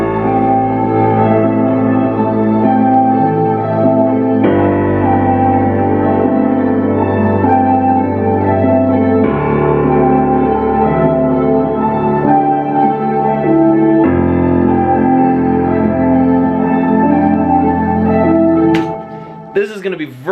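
A produced beat with a low-octave Steinway grand piano, layered synths and drums: dense sustained chords that shift every few seconds over a steady low bed, ending with a brief clatter.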